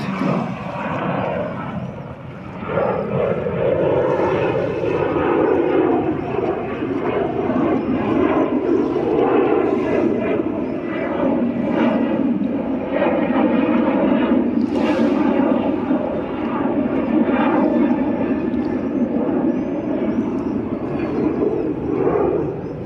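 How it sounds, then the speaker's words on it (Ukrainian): A loud, steady airplane roar fills the air for a long stretch near an airport, rising slightly after a quieter start as the aircraft passes overhead. "Літаки літають тут недалеко аеропорт"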